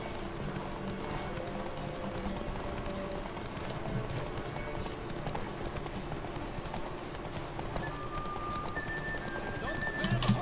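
Horse galloping flat out in a race in the video game Witcher 3, a dense steady drumming of hooves over a continuous busy game soundtrack, with a voice talking over it.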